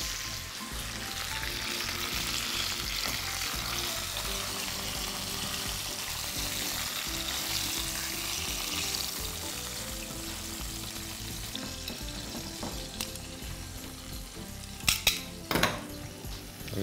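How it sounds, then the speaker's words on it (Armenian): Stuffed pork rolls fry in a pan with a continuous, close sizzle, and a few sharp clinks of utensils against the pan come near the end. "Ամեն կողմից մոտ 4 րոպե կտապակենք"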